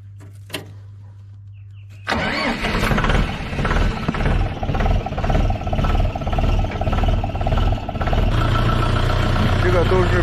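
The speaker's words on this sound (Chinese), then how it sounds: "看看我的拖拉机，大拖拉机已经卖掉了，还有一台小的，开着它" After a quiet start, a small farm tractor's engine starts up and runs loud and close, chugging steadily with a rhythmic knock and slight swells in revving.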